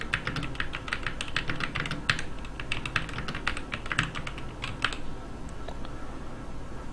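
Rapid, steady typing on a computer keyboard as footer text is entered on a PowerPoint slide. Close, crisp key clicks form a continuous stream for several seconds with no talking.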